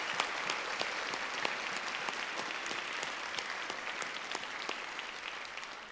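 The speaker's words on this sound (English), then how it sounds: "let's give both the bands a big round of applause" Sustained audience applause for youth bands at a young band festival in Mitchell: dense, steady clapping from a sizeable crowd, even and continuous throughout with no break or talk over it.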